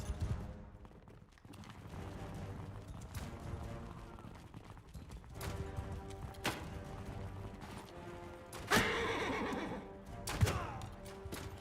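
A horse neighs in Mount & Blade Bannerlord during a town siege, a loud whinny near the end rising over a dense battle din of hooves, clashes and impacts.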